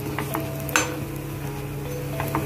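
Lachha paratha frying in ghee in a pan gives a steady close sizzle, with a few utensil clinks and scraping or stirring sounds over it.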